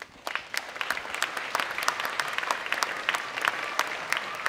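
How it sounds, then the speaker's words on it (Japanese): Audience applause at a DEEP 105 mixed martial arts event for heavyweight fighter Tatsuya Mizuno, a dense steady patter of many hands in a large hall, moderately loud and continuous without speech. "水野選手に盛大な拍手をお願いいたします。"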